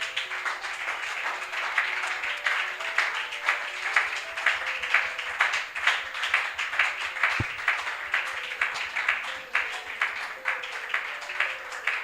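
A church congregation applauds the Lord in sustained, rhythmic clapping, steady and fairly loud throughout, the claps landing in a regular beat with faint voices and music underneath.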